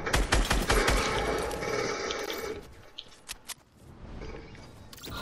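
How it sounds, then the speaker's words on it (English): Rapid video-game gunfire bursts loudly at first, then thins out into scattered single shots and clicks over continuous background noise. "They're shooting at me."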